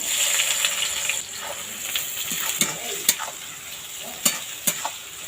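Chopped onion, whole garam masala and two dried red chillies frying in oil left from frying potatoes, a loud close sizzle broken by repeated sharp scrapes and clacks of a spatula stirring, no talking.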